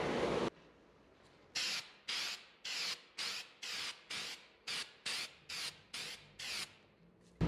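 Zinc weld-through primer is sprayed from an aerosol can onto steel parts for a boat trailer rebuild, in one long hiss followed by about a dozen short, evenly spaced bursts, close and clear with no talking.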